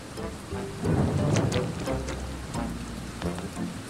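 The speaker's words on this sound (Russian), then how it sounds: "Вскоре действительно пошел дождь." Steady rain hisses throughout, with scattered heavier drops and a low rumble swelling in the background; no one speaks.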